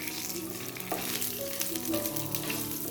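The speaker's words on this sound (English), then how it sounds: "Stir it gently with the ladle." Hilsa fish curry fries and is stirred with a ladle in a pan, a steady close sizzle with scraping stir strokes and clinks running through it, no voices.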